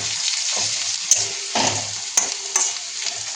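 Chicken fries in a pan with a steady sizzle, broken by a few sharp clicks of a utensil striking the pan and a louder burst of spattering midway.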